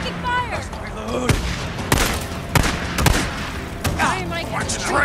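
Bursts of gunfire from the Days Gone video game, several sharp shots spread over a few seconds, loud and close, mixed with shouting voices and game chatter.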